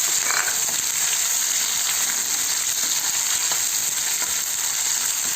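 Sliced onion and curry leaves frying in a pan, a steady loud sizzle with a fine hiss and faint crackle, constant from start to finish with no talking.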